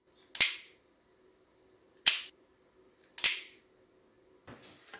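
A Pedersoli Colt replica revolver's mechanism gives three sharp, loud metallic clicks spaced about a second apart, each with a short ring-out, then a softer rattling click at the end, heard alone and close.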